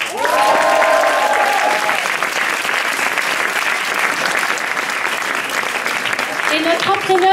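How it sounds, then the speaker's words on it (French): A Paris audience applauds a choir, the Racing Club Chorale: a loud, dense burst of clapping from a crowd that runs the whole time, with a voice audible briefly at the start and again near the end. "Merci d'applaudir le Racing Club Chorale."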